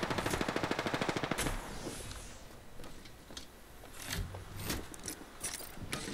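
Rapid automatic gunfire in Apex Legends, a fast burst of evenly spaced shots close by for the first second and a half, followed by scattered fainter shots and clatter.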